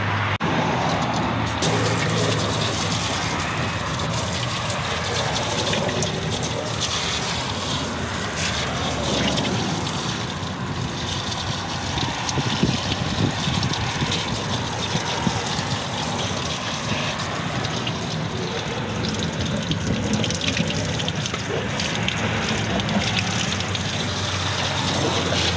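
Fluid gushes steadily out from under an off-road vehicle with a failed transmission after its heat shield insulator is pulled off, making a continuous, even rushing pour that lasts throughout with no talking.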